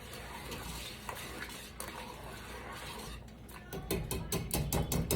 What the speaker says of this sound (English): it takes a lot of whisking